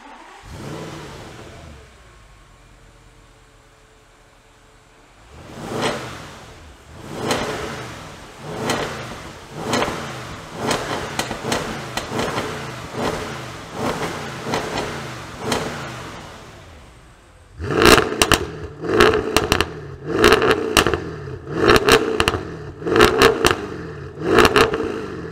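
An Audi S7 V8 engine revs repeatedly nearby, a series of sharp throttle blips that rise and fall, louder and quicker in the final stretch.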